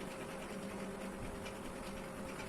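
A sewing machine stitches the round neckline of a blouse fabric, producing a quiet, even mechanical whir with a fast rhythmic needle chatter that runs continuously, with no talking.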